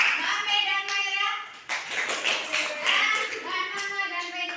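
Children clap for a classmate in a classroom, a brief burst of applause that rises partway through and mixes with the chatter of young voices and an adult speaking throughout.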